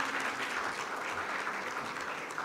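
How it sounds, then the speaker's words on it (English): An audience at a Kenyan public event applauds a newly welcomed speaker, a steady, fairly distant wash of clapping that continues without a break. "Please welcome her with a round of applause, please."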